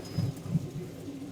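Pigeons, red pied silver birds among them, at the Tongi pigeon market: two soft, low coos close by in quick succession over a quiet background hum.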